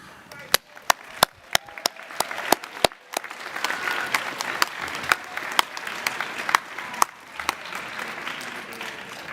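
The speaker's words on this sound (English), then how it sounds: "Graduates, please join me to applaud your guests and supporters" At a University of the Arts visual arts alumni commencement, graduates applaud their guests. Sharp individual claps ring out close by at first, then a broad crowd applause builds and rolls on, with loud nearby claps still popping through.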